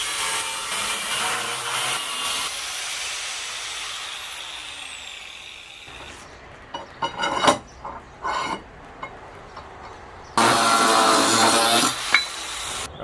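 A saw cutting through material while a gate is being hung, with a long continuous rasping stretch, then a few scattered knocks and handling sounds, and a louder burst of cutting near the end.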